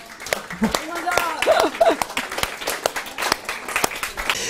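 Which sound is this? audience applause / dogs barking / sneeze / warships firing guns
audience applause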